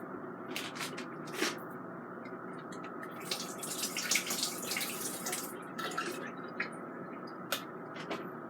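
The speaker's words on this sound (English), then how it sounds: "So I'm going to drain the liquid out." Liquid from a can of string beans drains into a sink in a steady trickling pour, with a few louder splashes and drips along the way. The sound is close and continuous, and nobody speaks.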